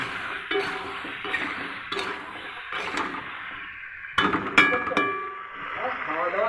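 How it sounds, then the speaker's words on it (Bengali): A pot of taro curry is stirred, with a spoon clinking and scraping against the metal in irregular knocks and a cluster of sharper clinks near the end, while a voice talks over it. "কচু দেওয়া হয়ে যাওয়ার পর একটু নাড়াচাড়া করবো"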